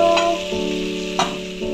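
Chopped raw jackfruit frying in hot oil in a wok, with a steady close sizzle and occasional stirring scrapes through the frying sound.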